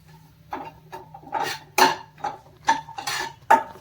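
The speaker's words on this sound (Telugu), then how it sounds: "ఎర్రగడ్డలు వేసుకునేసి ఇప్పుడు పచ్చిమిర్చి దీన్ని బాగా వేపుకున్నాం." Onions and green chillies fried in oil in a pan for Maggi noodles, heard as repeated metallic clinks and scrapes of a utensil against the pan at an even, unhurried pace, close and moderately loud, with no talking.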